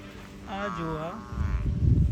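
A Kankrej bull in Banaskantha gives one drawn-out, fairly close moo lasting under a second, followed by rough, noisy rustling in the background.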